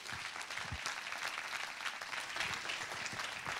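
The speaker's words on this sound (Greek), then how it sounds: "Σας αξίζει ένα πολύ μεγάλο χειροκρότημα και ευχαριστούμε." An audience claps steadily through the whole stretch, a dense, even wash of applause at the close of a Saturday show, heard alone with no talking.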